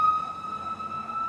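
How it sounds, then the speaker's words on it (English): A caravan of mostly highway patrol police cars speeds past during night protests in downtown Los Angeles. A steady, high siren wail sits over a faint background hum. "a caravan of police cars are going flying by, highway patrol involved, mostly highway patrol"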